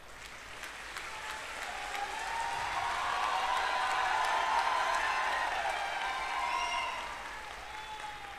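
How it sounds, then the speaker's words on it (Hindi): Audience applause fills a hall, a dense, even wash of clapping that swells in the middle and then tapers, with a few faint cheers over it. "धन्यवाद आपके इस सम्मान का,"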